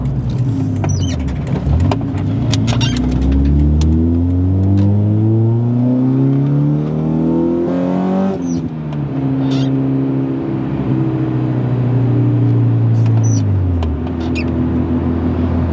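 A Honda Accord Euro R CL7 with a naturally aspirated engine accelerates hard through several gears, its engine note climbing repeatedly and dropping at each shift, loud and close from inside the car with no talk.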